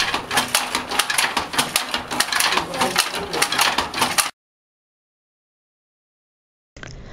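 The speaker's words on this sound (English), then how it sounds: "This artisan is making something on a loom." A loom worked by an artisan, with rapid rhythmic wooden clacks and mechanical rattling for about four seconds, then a long silence before a faint resumption near the end.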